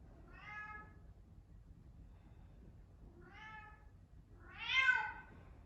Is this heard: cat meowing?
yes